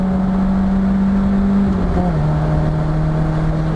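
A Nissan S13 240SX drift car engine holds a steady drone, then its pitch drops partway through as it shifts down through a corner, loud and close with no talk.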